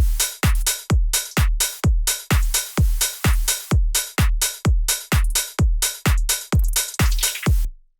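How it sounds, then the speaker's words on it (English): Bass house drums run through a clipper plugin, louder, saturated and crunchy: a relentless four-on-the-floor kick pattern with booming low end and bright clipped transients, heavy and dense for the whole stretch, no voices. "the clipper plugin makes it louder and also, yeah, kind of saturated and crunchy."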